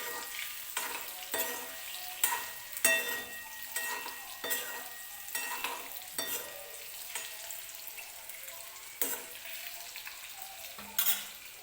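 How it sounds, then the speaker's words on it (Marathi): Boiled eggs frying in hot oil in a kadhai with a little turmeric for a dhaba-style egg curry, a steady sizzle broken by repeated scraping stirs of a utensil against the pan, close and without talk. "ही अंडी आपल्याला तेलामध्ये अशी परतून घ्यायची आहेत"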